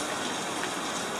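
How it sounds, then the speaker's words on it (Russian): Cold rain in Yalta, Crimea falls steadily, a dense, even hiss of drops close by, with no voices. "Ай, дождик, дождик,"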